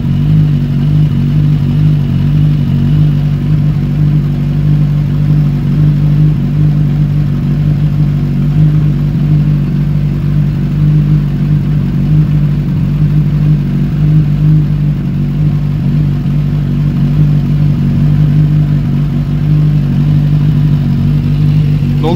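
A carbureted engine idles steadily after a carburetor adjustment, a loud continuous low hum with a slight vibrating roughness, close to the mic and with no talk.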